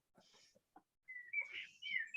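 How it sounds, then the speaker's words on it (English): Birds singing in a garden on a sunny day, with bright whistled phrases rising and falling across the clip, a few short chirps first and then a longer, louder run of song, fairly close and alone. "We can hear all the birds behind you."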